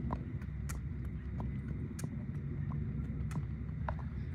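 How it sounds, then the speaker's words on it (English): A 16- to 17-year-old mule trotting outdoors, its hooves giving a scattered series of soft clip-clop strikes over steady low background rumble, with no voices. "Take her down there and trot her back to me."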